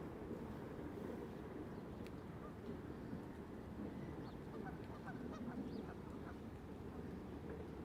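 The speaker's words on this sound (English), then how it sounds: "the Canada geese" Canada geese honk in a snowy Central Park in New York City, scattered calls rising from a dense outdoor noise bed, with a person talking nearby.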